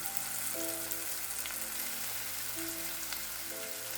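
Masala for a chickpea curry fries in a pan after tomato is added. A steady, dense sizzle and crackle continue close and alone, with faint tonal notes in the background.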